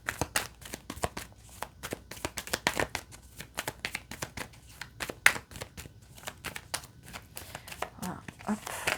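Tarot cards are shuffled and dealt by hand during a reading, giving quick papery flicks and riffling snaps in an irregular stream, close and crisp, while someone speaks French over them.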